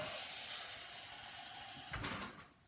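Water poured into a salad bowl holding a sachet of wheat grains for sprouting: a steady close hissing pour that ends abruptly near the close, with a brief splash, no voices.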